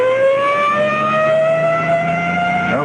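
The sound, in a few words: ambulance siren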